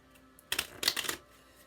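Tarot love cards being shuffled by hand, two short papery bursts of riffling and flicking, fairly quiet and close, with no talking over them.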